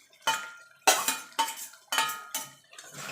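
Okra with slit green chillies, coriander leaves and a pinch of sugar gets stirred in a pan, a spoon scraping and clinking against the metal in five or six distinct rhythmic bursts, close and clear, with no voices.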